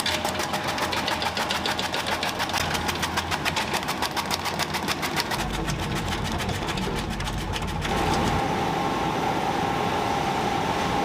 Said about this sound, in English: the radish is cut into long, thin pieces using a huge cutting machine